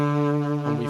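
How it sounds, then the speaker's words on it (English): A sampled saxophone played through the Kontakt software instrument holds one loud, sustained reedy tone that shifts pitch near the end. "So there's our sax."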